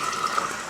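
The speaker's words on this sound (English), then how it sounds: "at this point, I'm going to pour the tomato sauce." Tomato sauce is poured into a pan of hot olive oil infused with garlic and basil, a brief, soft gushing and sizzling pour heard on its own.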